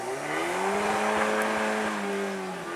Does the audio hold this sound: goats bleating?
no